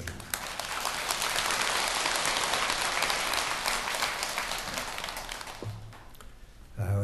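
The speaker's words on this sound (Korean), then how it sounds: "우리 뜨거운 그분들을 위한 격려의 박수 부탁드립니다" Warm applause from an audience at a Buddhist temple event honouring lantern performers and a choir, a dense wash of many hands clapping steadily for about five seconds, then thinning and fading toward the end.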